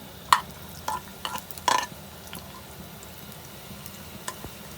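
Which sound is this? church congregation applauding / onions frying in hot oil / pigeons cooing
onions frying in hot oil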